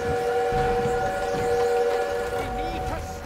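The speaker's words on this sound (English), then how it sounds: "We need to stop that train!" A train in the World War II shooter Call of Duty WWII sounds long, steady whistle-like tones over a loud, continuous rumble of rolling rail noise, with game action filling the background.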